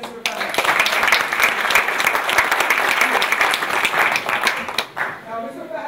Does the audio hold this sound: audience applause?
yes